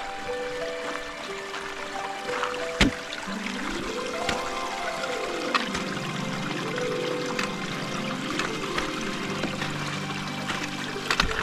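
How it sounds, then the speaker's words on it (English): A creek flows outdoors near Granite Lakes with a steady, soft rush of water that stays even and fairly faint, with no voices over it. "look like there's a creek we got to cross"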